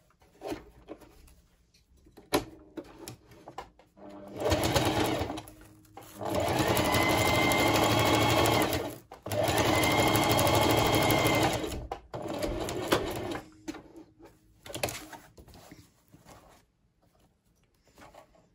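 A sewing machine stitches a wide decorative zigzag with colourful thread, running in two steady, loud bursts of several seconds each, separated by a short pause and framed by quieter handling sounds.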